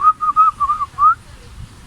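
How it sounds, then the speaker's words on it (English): A person whistles a short wavering tune of about five quick notes, close and clear, followed by quiet. "Yeah, I can whistle."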